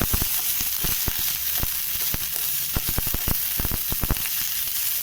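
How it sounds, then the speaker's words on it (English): Sliced mushrooms sauté in a hot pan just after a light sprinkle of salt, giving a steady close sizzle with frequent sharp pops and crackles throughout, and no voices. "So we'll sprinkle some salt onto this and just mildly saute"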